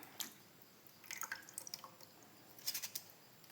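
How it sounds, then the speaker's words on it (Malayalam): Potato slices for homemade chips drip and trickle as they are lifted out of cold water into a sieve, giving faint, scattered splashes and drips in small bursts amid near silence. "ഇനി ഞാൻ തണുത്ത വെള്ളത്തിൽ നിന്ന് ഊറ്റിയെടുക്കട്ടെ."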